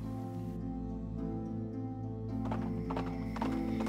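A horse ridden hard sounds its hooves in a brisk clip-clop, with a whinny, as an effect in a Beauty and the Beast read-aloud. The hoofbeats are close and continuous over a steady tonal background.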